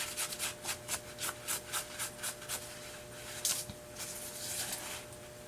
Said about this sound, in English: I'm just going to go back in and keep rubbing